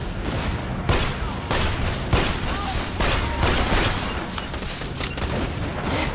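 Constant rapid gunfire and sharp blasts in the Borderlands: The Pre-Sequel shooter, loud and crowded with overlapping shots throughout, a voice faintly mixed in.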